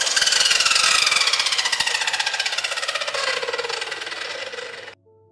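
A loud, whining miter saw motor runs at a high buzzing pitch, slowly winding down before cutting off abruptly near the end.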